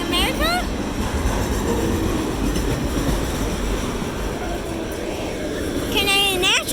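A three-engine autorack freight train with a mixed Union Pacific, Kansas City Southern and BNSF lashup rolls past close by, a continuous loud rumble of wheels with squealing flange tones at the start and end.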